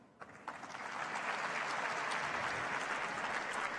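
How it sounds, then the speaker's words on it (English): Audience applause at the Hanga Pitchfest 2025 innovation pitch event, starting with a few scattered claps and swelling within a second into steady, sustained clapping from a large crowd that carries on evenly. "A bigger round of applause, please"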